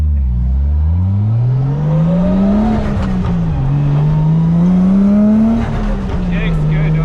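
A Toyota Prius hybrid drift car with a newly fitted hydraulic brake revving hard, its loud engine pitch climbing, dipping and climbing again as it accelerates, up close with brief chatter mixed in.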